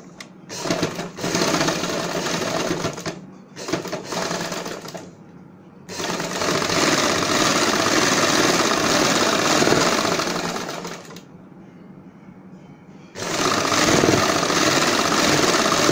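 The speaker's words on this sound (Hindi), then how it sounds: "इसी निशान के ऊपर हम सिलाई की शुरुआत करेंगे" A sewing machine stitches a churidar pajama seam, its rapid, steady clatter running loud and close in several long bursts broken by brief stops.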